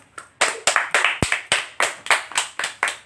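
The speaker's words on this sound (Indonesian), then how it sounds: "Untuk fan-fanku yang jauh di sana, tepuk tangan." One person claps hands in a steady rhythm, about eleven sharp, close claps spaced evenly over three seconds, with no other sound between them.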